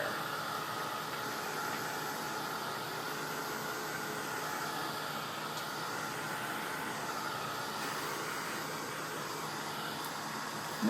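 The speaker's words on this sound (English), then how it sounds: "I'm going to use my dryer here, try to get this dry a little bit quicker." A heat tool blows over chalk paste on a handmade card with a continuous, quiet, airy hiss that holds level from start to finish.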